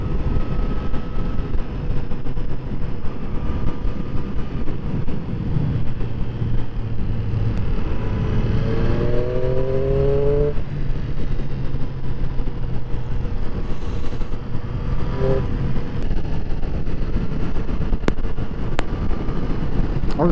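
Triumph Street 765RS motorcycle engine droning steadily while riding behind another bike, with constant wind buffeting over a low rumbling note and brief rising tonal sweeps.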